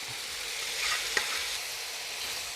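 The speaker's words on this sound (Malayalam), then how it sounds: "നമ്മുടെ കരളും വെള്ളവും എല്ലാം കൂടെ അങ്ങ് കൊടുത്തേക്കാം" Liver and water going into a sizzling pan for a Kuttanad toddy-shop style liver fry, a steady broadband frying hiss with a brief louder splash and clink near the middle, heard alone without talk.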